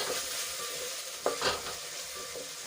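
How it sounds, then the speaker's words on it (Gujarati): Ginger, garlic and chili paste sautéing and being stirred into softened onions, a steady close sizzle with a couple of brief scraping stirs near the middle, no voices. "એમાં આદુ લસણ અને મરચાંની પેસ્ટ ઉમેરીશું અને સરસ રીતે મિક્સ કરી લઈશું"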